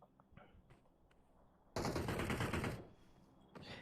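Gunshots in the game PUBG Mobile during a clan wars league match: faint scattered shots at first, then a loud sustained burst of automatic fire, and a shorter burst near the end.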